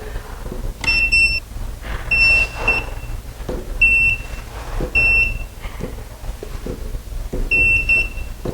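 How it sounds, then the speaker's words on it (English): A non-contact voltage tester held at a household electrical outlet gives repeated shrill electronic beeps in short bursts, loud and close, with faint handling noise between them. "we're going to take our non-contact tester. We're going to turn it on."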